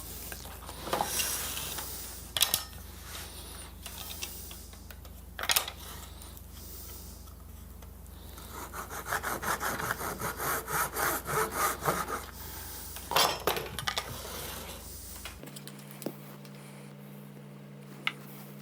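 Hand sawing of small oak and walnut scrap strips being cut to length, with bursts of rhythmic back-and-forth strokes between pauses and a few knocks, fairly close and quiet, ending in a low steady hum.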